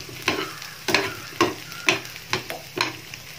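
Large pieces of ginger and garlic fry in a pan for a Goan fish curry, a soft sizzle punctuated by seven evenly spaced stirring strokes scraping the pan, with no talk.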